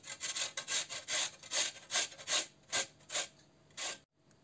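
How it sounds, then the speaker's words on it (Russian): Peeled potatoes being grated on a fine grater, about a dozen rhythmic scraping strokes in steady succession, close and fairly quiet, ending with a short pause and one last stroke. "И натираем на мелкой терке."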